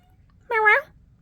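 A single short meow from a house cat during an indoor card-making craft session, fairly loud and close, rising and falling, with near silence around it.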